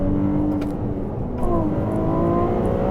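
Ferrari 296 GTB hybrid twin-turbo V6 revving hard near 5,000 RPM, a loud, steady engine drone with rising tonal sweeps, heard up close with no talking.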